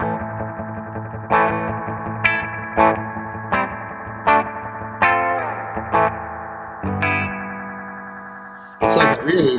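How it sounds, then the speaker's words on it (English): A 1976 Roland DC-50 digital chorus on guitar, played through with intensity turned up, gives wobbly, trailing echoes like a loose spring reverb, with a run of plucked notes and chords ringing and smearing into one another, ending in a louder burst. "It's like a really loose spring reverb."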